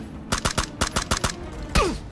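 Rapid bursts of gunfire in the battle royale game PUBG, about ten sharp close shots in quick uneven succession, followed by a louder heavier blast with a falling whine near the end.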